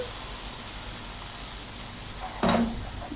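Tomatoes being stirred in a hot frying pan, with a steady faint sizzle and then a sudden louder burst of frying as the stirring begins near the end.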